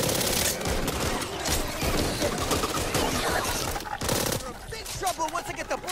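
Gunfire from players shooting at zombies in Back 4 Blood, dense rapid bursts that fill most of the stretch amid game noise, with a short lull before more shots.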